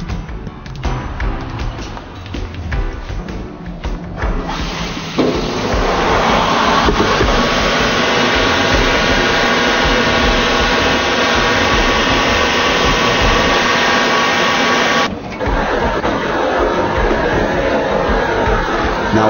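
A grinding machine flattens the surface of a crystal glass baptismal font with a loud, steady whirring roar that swells after a few seconds, holds evenly, then dips briefly before carrying on.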